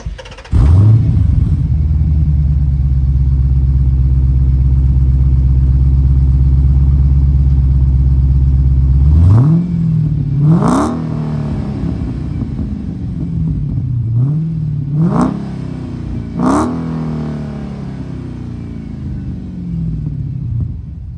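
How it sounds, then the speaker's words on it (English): A 2011 Dodge Challenger SRT8 with dual exhaust idles with a loud, steady deep rumble, then revs in four or five sharp blips that rise and fall back, heard up close with no talking. "And those exhaust pipes really make this car sound amazing."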